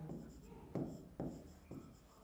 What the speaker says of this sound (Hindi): और अब मैं आपको 2 क्वेश्चंस लिखकर दिखाता हूं, लिखता हूं